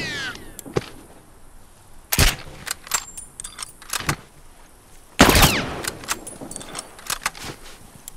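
Rifle shots during combat in The Last of Us, several sharp loud cracks spaced irregularly across the moment, with two especially strong blasts, amid metallic clinks and quieter ambient noise.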